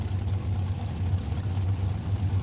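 A dragster engine idles and rumbles at an NHRA Lucas Oil Drag Racing Series event at Maple Grove Raceway, heard as a steady, deep, loud drone with no clear revs.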